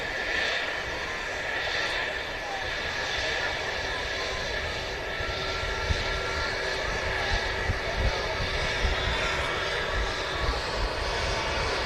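Engine noise from an Embraer 145 regional jet at Manchester Airport holds as a steady, moderate drone with a faint tonal whine. Occasional voices come through beneath it.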